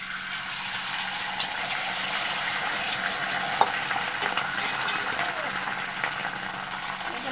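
Egg going into hot spiced oil in a pan at home, with a steady broadband sizzle and stirring throughout and one brief sharp tap near the middle. A voice talks over the frying.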